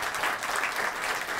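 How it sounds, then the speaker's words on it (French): Audience at a school quarter-final match applauding the departing visiting team, a brief steady wash of many hands clapping at moderate distance. "Je crois qu'il faut les applaudir."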